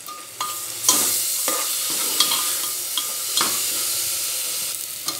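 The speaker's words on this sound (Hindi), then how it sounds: "इसे हम अच्छे से अब मिक्स कर लेंगे।" Tomato, green chili, turmeric and red chili powder masala is stirred in a hot pan for vegetable khichdi. A steady sizzle runs under sharp, irregular scrapes and taps of the spoon against the pan, with no talking.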